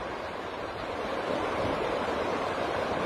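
Strong wind gusts roar steadily across a beach in Rio de Janeiro beside the water. The rushing noise is dense and continuous, and no voices are heard.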